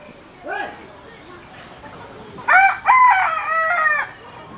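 Pure Siruvidai native chickens at a country chicken farm, with a faint cluck early on and then a loud, close crowing call that stretches over about a second and a half. No talk is heard.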